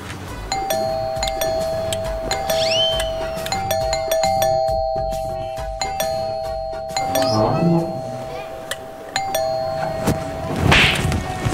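A doorbell rings again and again with a sustained electronic tone, mixed with occasional thumps and a sharp whip-like crack in an indoor room.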